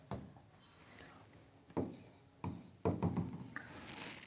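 A pen writing by hand on a paper recruitment application form, giving soft scratching strokes with a few sharper taps and rubs, close but quiet, with no talking.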